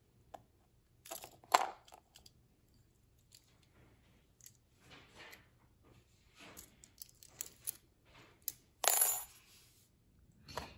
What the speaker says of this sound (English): I was just sorting through keys